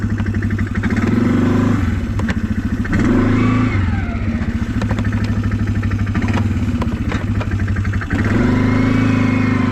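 A Can-Am Outlander quad on mud tires revs and accelerates through snow, its engine climbing in bursts, dipping briefly and surging again in a loud, close, throaty drone throughout.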